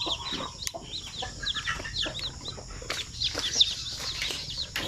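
Native chickens and chicks clucking nearby, with soft repeated clucks, high chick peeps and some wing flapping in a busy, moderately loud mix.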